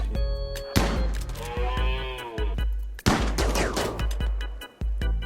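Gunfire from the video game RimWorld: several loud, sharp shot bursts at irregular intervals, each with a short thudding tail, mixed with game sound effects and a brief tonal cue.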